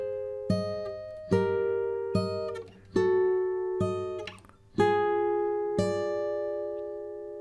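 Fingerstyle guitar plays the last phrase of a song at a slow tempo, a handful of ringing plucked notes and chords let to sustain, clean and close.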